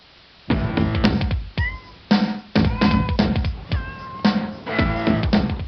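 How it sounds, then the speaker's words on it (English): A cat meows several times in a row, drawn-out, insistent cries with short pauses between them, close and clear. "Cats communicate in a variety of ways."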